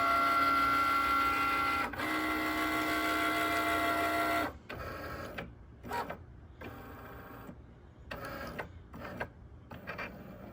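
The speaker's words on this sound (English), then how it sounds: "So we'll wait for these to print out." A home printer prints Mother's Day coupon pages, first a steady whirring feed of paper, then a series of short mechanical clicks and carriage movements with gaps between.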